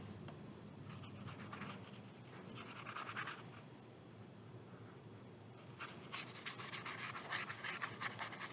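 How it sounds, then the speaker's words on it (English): Paper towel rubbed and pressed against wet paint on a paper collage, making a quiet, steady scratchy rustle that comes in bursts close to the microphone. "we're going to use our paper towel to blot up a lot of that color."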